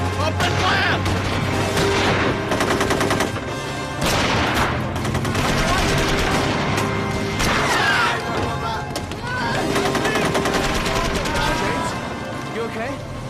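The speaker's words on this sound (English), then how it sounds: "Right, they're shooting now. Open fire!" Sustained battle-scene gunfire from the 1999 film To Walk with Lions, dense volleys of rifle and automatic shots layered over rumbling booms, loud and continuous throughout.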